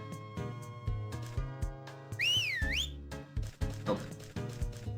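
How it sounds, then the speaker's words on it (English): A video game character gives a clear rising and falling whistle amid busy game sounds with thumps and tones, a short melodic sweep in the middle of the clip. "Do one more whistle just to be absolutely safe."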